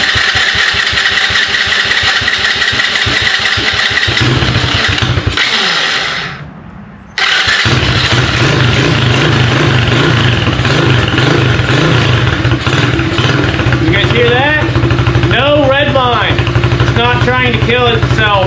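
A 125 Blazer engine cranks and catches on choke, cuts out briefly into near silence, then restarts and settles into a loud, steady close idle with some revving, and people talk over it.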